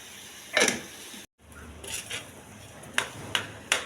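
A knife chopping about 50 grams of fresh ginger in a kitchen, with a handful of crisp, separate taps on a board spaced irregularly and close by, a short silent gap partway through.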